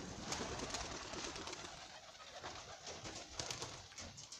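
Pigeons gathering for food that has been scattered on the ground, heard faintly and at a distance with soft low coos and fluttering under a broad outdoor rustle, and no voices.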